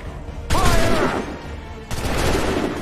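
Two musket volleys crash out in Assassin's Creed III, each a dense burst of many near-simultaneous shots that rolls into a long echoing rumble, loud and close, with a shouted command underneath.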